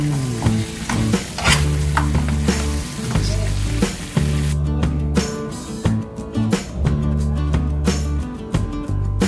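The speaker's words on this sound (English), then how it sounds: "Mix it all together to cover the meat with your sauce." Wild buffalo ribs stirred through sauce in a hot pan, with a loud, steady close sizzle broken by repeated scraping and clacking stirs; no one speaks.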